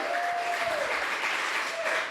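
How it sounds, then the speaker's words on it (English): An audience at a live podcast event in Bali claps in a dense, sustained burst that holds steady throughout, with a faint tonal whistle or feedback line briefly riding over the applause. "Everybody give her a big round of applause."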